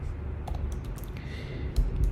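Someone typing Android code on a computer keyboard: quiet, close keystrokes in irregular short bursts over a low room hum, with no voices.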